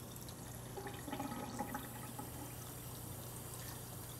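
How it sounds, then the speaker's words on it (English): Portobello mushroom caps are washed under running tap water, a faint steady stream with soft splashing and a few light knocks, close by but quiet. "So first I'm going to wash them, because they tend to collect dirt."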